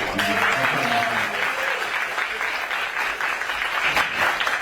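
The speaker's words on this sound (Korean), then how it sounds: "그래서 선생님께 다시 한번 박수 한번." Audience applause for a speaker at a youth leadership lecture by the Korean prime minister, a steady roomful of clapping sustained throughout, fairly loud and even.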